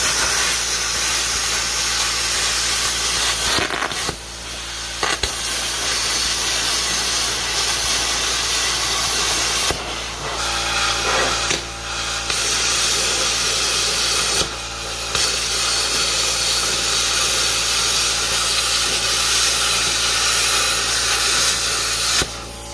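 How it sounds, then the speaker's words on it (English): A plasma cutter slicing through metal on a stripped-down vehicle frame, a loud continuous close hiss with a few short breaks, running alone without talk. "Plasma cutters make everything so easy."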